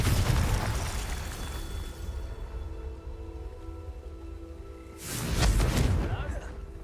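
A Confringo explosion spell from the game Hogwarts Legacy goes off as a loud booming burst, then fades into a low rumble before a second heavy blast rises near the end; a voice speaks over the start.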